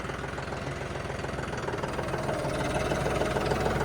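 A John Deere 5210 tractor engine runs steadily in a field with a rough, knocking diesel chug that swells slightly louder toward the end, no voices.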